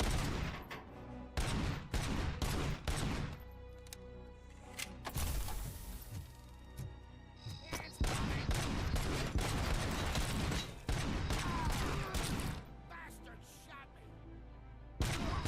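Loud bursts of weapon fire in Robocop: Rogue City, with rapid automatic volleys and single shots cracking in close succession through most of the stretch, punctuated by sharp impacts and brief pauses, while someone speaks now and then.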